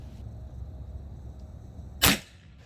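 A single sharp crack of a Kral Arms Empire XS micro bullpup PCP air rifle shot rings out near the end, loud and brief, after a quiet stretch of low background hum.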